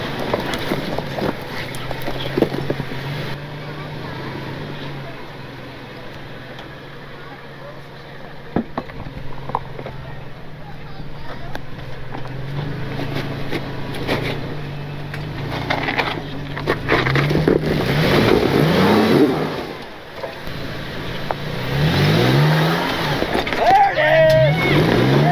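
A 1950 Jeep Willys grinds up an off-road obstacle, its engine droning and then revving in rising, straining surges, with wind noise and people talking throughout.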